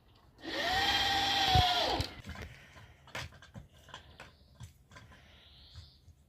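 A power drill drives a screw into a wooden board outdoors, one loud whirring burst of about a second and a half that rises and then stops, followed by faint clicks and handling knocks close by.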